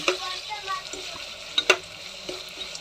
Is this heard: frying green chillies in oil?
yes